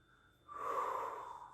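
A single inhaled breath during a Pilates spine exercise, starting softly and swelling into a steady, airy draw that lasts about a second, close and alone.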